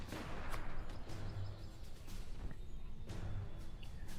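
Howitzer artillery in a competitive multiplayer game, heard as several distant booming blasts at irregular intervals over a faint, low battlefield rumble.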